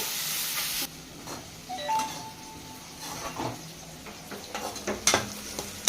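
Tempering sizzles in a frying pan while cooking gongura curry with dried fish, a soft steady hiss joined by stirring scrapes and light clinks of utensils against the pan.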